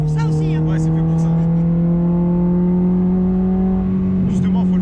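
A Peugeot 106 engine holds a steady, loud high-rev drone throughout, with voices talking at the start and end.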